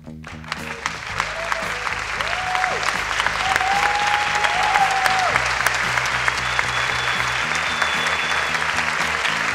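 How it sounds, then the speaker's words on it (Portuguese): Sustained, dense applause from a theatre audience, steady and loud throughout, with crowd voices and faint tones mixed underneath. "palmas."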